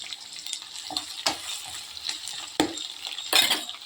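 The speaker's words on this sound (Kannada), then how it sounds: "ಇದು ಚೆನ್ನಾಗಿ ಫ್ರೈ ಆಗಬೇಕು" A ground masala paste of tomato, onion, garlic, chili powder, turmeric and coriander powder fries in a pan, with a soft sizzle broken by sporadic scrapes and clinks of a spoon stirring, fairly close and quiet.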